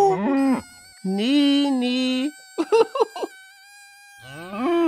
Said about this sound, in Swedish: Titta, en ko!